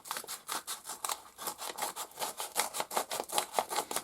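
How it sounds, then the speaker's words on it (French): Scissors snip steadily through a parcel's packaging, a quick even run of crisp close cuts repeating about five times a second with no voices. "Je vais prendre des ciseaux."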